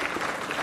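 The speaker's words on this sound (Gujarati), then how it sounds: "તો જોરદાર તાળીઓથી સ્વાગત કરીએ." Dense, loud applause from an audience at a CA Day celebration, welcoming a guest, a steady burst of many hands clapping.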